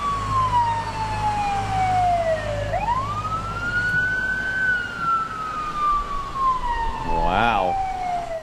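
An ambulance siren from wrestling footage wails in long, loud rising and falling sweeps over a low rumble of traffic, with a brief warbling burst near the end.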